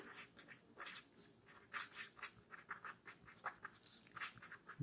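Handwriting of a ratio sum during a class 7 math lesson on ratio and proportion, heard as a close run of short, uneven scratchy strokes with small pauses between them and no talk.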